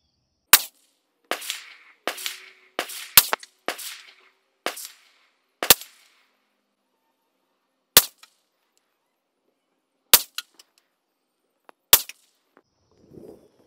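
Sharp gunshots from a Ruger LC Charger pistol in 5.7x28 fired at a target on an outdoor range: about a dozen loud cracks, a quick irregular string early on, then single spaced shots, each dying quickly.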